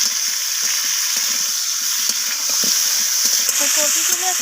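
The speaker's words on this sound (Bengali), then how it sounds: "কপিটাকে লাল লাল করে আমি ভেজে" Cauliflower pieces coated with salt and turmeric fry in hot oil. They give a dense, steady sizzle and hiss, with soft stirring clinks and bubbling pops close by.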